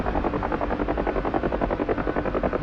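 In the flight simulator DCS, a helicopter's rotor beats in a steady, rhythmic thump over a continuous engine whine, close and constant throughout.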